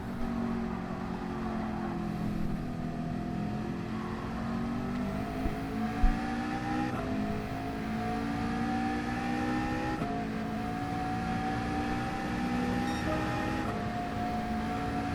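A race car engine in a racing video game drones steadily through laps, its pitch climbing through each gear and dropping at the shifts, loud and continuous without talk.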